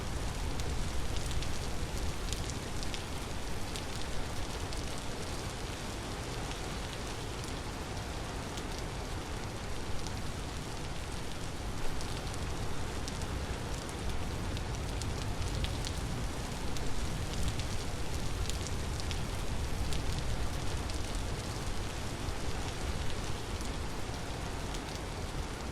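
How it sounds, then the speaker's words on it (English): Rain in the video game Vintage Story, a steady, dense hiss of falling rain that holds evenly and alone for the whole stretch with no voices. "And just ride out the rain, I guess."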